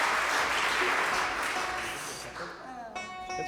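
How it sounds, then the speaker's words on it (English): Audience applause at a bluegrass concert, a dense steady wash of clapping that thins toward the end as a voice and a few tonal notes come in. "Get an applause for just talking."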